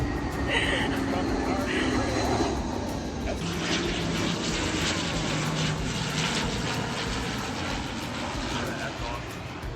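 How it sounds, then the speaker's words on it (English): A propeller airplane passes overhead at Mounts Botanical Garden in West Palm Beach, Florida, a loud steady engine drone with broad rumble lasting throughout, while people talk beneath it. "Oh wait, I think we got another plane coming through."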